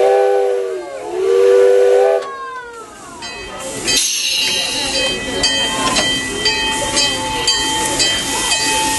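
Steam locomotive on the Billy Jones Wildcat Railroad starting off for a test run, with a loud steam whistle blowing twice, then a steady close hiss of steam and rolling train noise continuing throughout.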